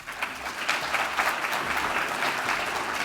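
An audience applauds to welcome a speaker at a lecture, many hands clapping steadily and fairly loudly for a few seconds with no voices over it.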